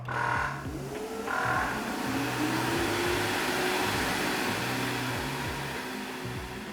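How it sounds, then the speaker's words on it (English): Kärcher BR 35/12 C scrubber dryer runs with its suction motor whining steadily and a rising tone as the brush engages and scrubs the floor, a loud continuous drone with rhythmic mechanical pulsing underneath. "I turn the suction on, and I pull the lever and the machine will start to scrub."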